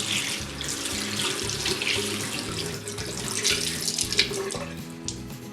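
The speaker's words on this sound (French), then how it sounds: "Donc je viens la mouiller." A tap runs steadily into a sink to wet a small cloth towel, a close, continuous gush of water splashing for several seconds with no talk.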